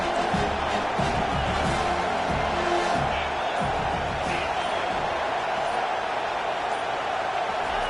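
Football stadium crowd roaring on a big third down, a dense, loud wash of cheering and noise that holds steady throughout, with scattered thumps in the first few seconds.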